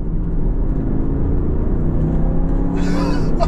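A 4x4 fitted with a BMW M5 Competition engine swap pulls hard under acceleration, a deep steady engine rumble and whir heard from inside, with a brief higher mechanical whine near the end.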